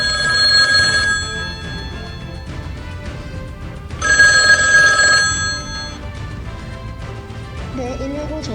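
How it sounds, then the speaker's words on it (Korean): A mobile phone rings out during an emergency call to 119 in a fire-safety drill at a training institute in Yeongwol. Two bright, electronic ring bursts sound about three seconds apart over a low background, and a voice follows faintly near the end. "자위소방대원 중 한 명이 휴대폰으로 119에 신고를 하고 있습니다."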